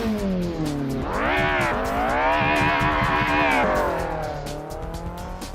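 A BMW 320 E21 Turbo Group 5 racing car in Assetto Corsa screams loudly through the gears, its engine note climbing and dropping with each shift as the car accelerates hard, with faint tire noise.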